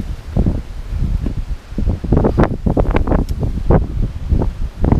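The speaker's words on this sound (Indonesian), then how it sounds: "Cuaca sangat berangin guys." Strong gusts buffet the microphone on a windy, dusty hill trail, a continuous loud rumbling roar that swells and dips without any talking.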